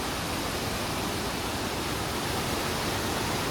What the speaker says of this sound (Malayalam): നമ്മുടെ ഹൈറേഞ്ചിൽ നിന്ന് വരുന്ന ഒരു പുഴയാണിത്.